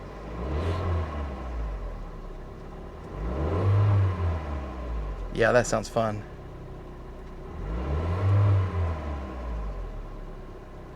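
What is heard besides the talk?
Fiat sports car engine revving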